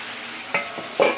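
Something fries in a pan under a steady background sizzle, with two or three sharp spatula scrapes as it is stirred.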